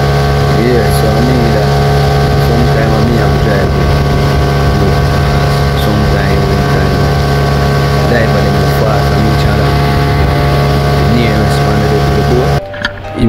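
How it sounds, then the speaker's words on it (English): A motorboat engine drones steadily and loudly on Kingston Harbor, Jamaica, a constant hum with wind and water noise throughout, cutting off near the end. "Have to drive the boat"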